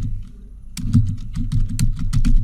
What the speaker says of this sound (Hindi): मैं अभी टाइप करता हूँ